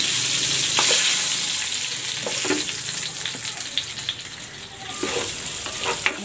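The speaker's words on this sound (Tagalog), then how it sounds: "Ayan, nagisa na ako ng bawang." Garlic sautés in a hot pan with a steady, close sizzle and a few scraping stirs, the frying noise loud throughout.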